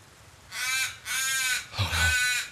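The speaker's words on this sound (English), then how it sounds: "Crows." Crows cawing in the horror game Once Alive, three loud, harsh caws spaced about half a second apart, close and alone.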